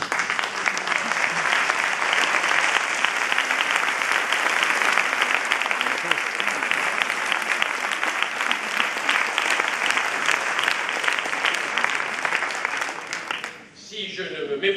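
Sustained applause from an audience at a national bar council assembly of lawyers, a dense, even roar of clapping that holds steady before dipping briefly near the end.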